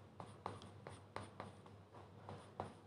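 Pen scratching out fractions by hand during a maths class, short strokes and taps in an irregular rhythm, close and fairly quiet with no talking.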